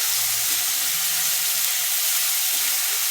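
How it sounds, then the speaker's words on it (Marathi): Spinach tossed into hot oil in a pan sizzles steadily and loudly, a dense continuous frying hiss with no break from start to finish. "आता घालू याच्यामध्ये हे पालक"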